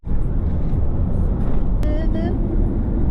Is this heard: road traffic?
yes